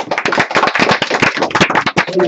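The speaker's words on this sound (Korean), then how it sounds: "교수님께 다시 한번 박수 드립니다" Audience applause for a lecturer after a Korean culture lecture at a Seoul citizens' academy: dense, steady clapping from many hands, close and loud for a couple of seconds.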